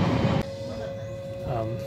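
Interior of a nearly empty passenger train running west of Kyoto in rural Japan, a steady low rumble with a sustained hum and faint rail noise, fairly loud and continuous.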